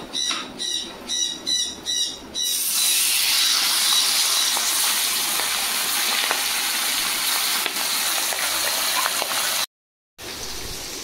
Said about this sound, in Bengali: বাকি মাছ এইভাবে ভেজে নেবো।